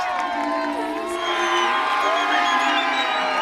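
A large crowd roars and cheers continuously at the start of the Diagonale des Fous ultramarathon, a dense wash of shouts and whoops that holds steady throughout.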